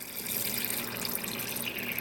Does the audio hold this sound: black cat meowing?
no